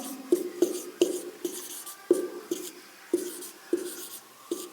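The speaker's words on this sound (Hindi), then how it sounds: "अब यहाँ पे लिखेंगे चौथा पद" Chalk taps and scrapes across a classroom board in short repeated strokes, about ten sharp ticks with light scratching between them, close and clear with no voices.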